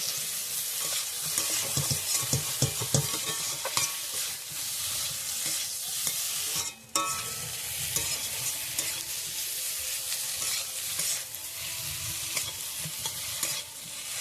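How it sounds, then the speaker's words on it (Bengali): Potato pieces frying with salt and turmeric powder in a pan, stirred steadily, the broadband sizzle constant and close with repeated scraping strokes throughout and no voices. "ভালো করে আলুটাকে আমি ভেজে নেব"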